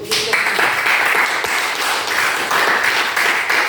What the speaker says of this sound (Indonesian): Oke, cukup ya, kita beri aplaus.